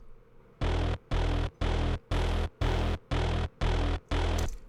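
Omnisphere Air Ranger bass, a gritty, nasty sub bass synth patch, plays eight evenly spaced loud sustained notes in a steady pulsing rhythm, each cut off by a short gap.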